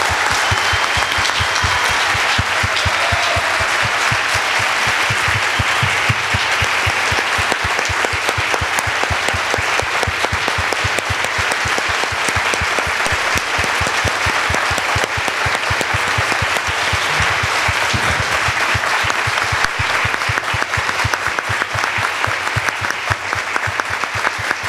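Sustained audience applause at the close of a justice-sector panel discussion, steady dense clapping filling the whole stretch without a break and no talk over it.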